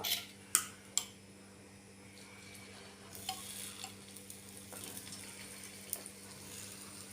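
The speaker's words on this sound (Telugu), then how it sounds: "ఇప్పుడు కొంచెం కొంచెం ఎగ్గు మిశ్రమాన్ని పోసుకోవాలి ఇందులో" Beaten egg mixture goes into a hot appam pan. A few sharp metallic clinks come first, then a faint, steady sizzle builds and crackles quietly, with light taps along the way.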